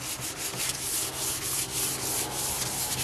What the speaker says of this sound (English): This one I just use dry, so it's really fine sandpaper, and all I do is just very lightly start rubbing that down.